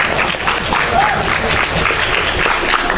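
A debate audience applauds in a room, a dense, steady wash of many hands clapping close and loud, holding evenly for the whole stretch with a faint voice buried in it.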